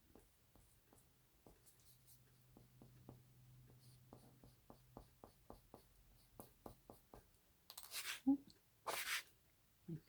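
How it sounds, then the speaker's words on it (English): A soft eraser rubs out pencil lines on a drawing in a run of quiet, rhythmic scrubbing strokes close by, followed by a couple of louder rustles near the end. "I'll just use a soft eraser and just take away those pencil lines"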